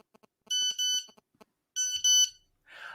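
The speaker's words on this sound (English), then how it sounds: "If I keep texting, does it keep beeping?" Short electronic beeps from a phone receiving text messages sound in quick bursts, separated by pauses, ending with a softer buzzy tone; no talking.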